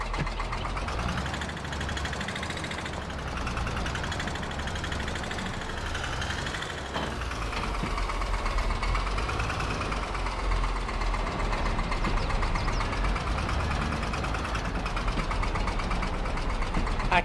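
Vehicle engine in Farming Simulator 22 running steadily and rising in pitch as it accelerates, a droning motor with a slightly knocking tone under faint talk.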